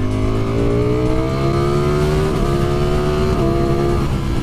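A 2020 Ducati Streetfighter V4 motorcycle accelerating hard, its V4 engine note climbing steadily in pitch with a brief dip at a gear change, loud and close throughout with no talking.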